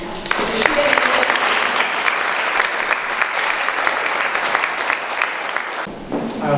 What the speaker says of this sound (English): I'd like everybody to give Melissa a huge hand.